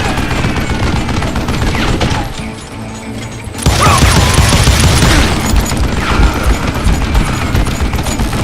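Dense, loud gunfire and crashing impacts in the Western shooter Call of Juarez: Gunslinger, a sustained barrage that briefly drops to quieter rumble before erupting again with heavy shots.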